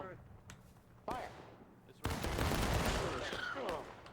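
A line of soldiers in the Civil War battle game War of Brothers fires a rifle volley, a sudden dense crackle of shots that turns into a sustained rolling roar, with people talking over the gunfire.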